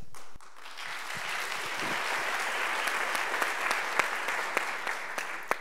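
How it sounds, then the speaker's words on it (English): An audience applauds panelists at a festival event on race and society, a dense, steady clapping of many hands that swells slightly and carries on throughout. "I know you all have clapped a couple times"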